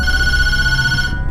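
A telephone rings in the Tattletail horror video game, a loud, steady electronic trill held close and constant for over a second before cutting off abruptly.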